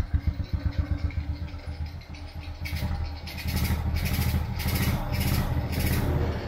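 After a top overhaul, a motorcycle engine runs close by with a fast, throbbing idle, then the revs climb in a few rising throttle blips that stay loud and steady.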